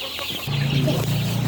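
Farm chickens cluck close by in a short burst, with a steady low hum running underneath for most of the moment.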